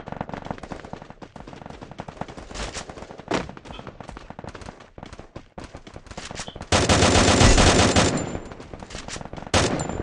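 A weapon in a mobile shooter video game fires rapid automatic bursts, sharp repeated shots in quick rhythm with brief gaps, then a loud sustained stretch of nonstop fire near the end.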